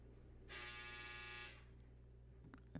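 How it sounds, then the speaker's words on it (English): A clothes dryer's buzzer sounds once, a harsh electronic drone lasting about a second, heard at a moderate level from somewhere in a quiet home, followed by a couple of faint clicks. "Sorry, that was my dryer."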